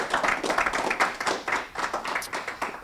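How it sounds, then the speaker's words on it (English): An audience applauding a speaker at the end of a book talk, a close, dense round of hand clapping with rhythmic surges that carries on steadily throughout. "how about a round of applause for our speaker tonight?"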